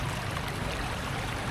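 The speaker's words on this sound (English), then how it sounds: "how fast how fast this river's flowing." A fast-flowing flooded river in Chiang Mai, Thailand, a dense, loud, continuous rushing roar of water close by, with no voices.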